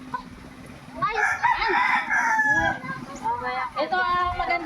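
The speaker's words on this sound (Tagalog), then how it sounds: "Ito ang magandang lahi ng manok natin, Brett." A gamecock rooster crows loudly nearby, its long call rising and falling, followed by clucking fowl, with faint voices in the background.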